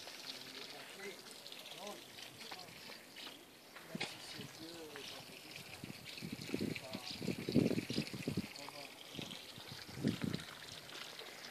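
Cold stream water flowing steadily outdoors in a natural setting, a constant rushing hiss with louder splashy bursts, heard under people talking nearby.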